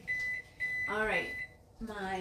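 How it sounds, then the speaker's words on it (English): A microwave oven finishing its cycle in a home kitchen gives a few short, steady electronic beeps, while a person talks over and between them. "let me get my microwave, it went off"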